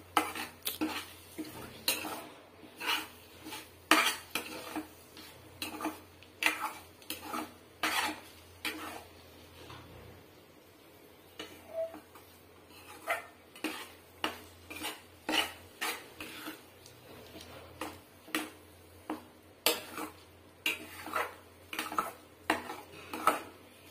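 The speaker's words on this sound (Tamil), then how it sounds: "இப்படி நல்லா அடி பிடிக்காம கிளறி விடலாம்." Egg fry being stirred in a pan with a metal spoon, giving repeated sharp scraping clinks at a steady, brisk rhythm, close and clear, with a faint sizzle underneath and no voices.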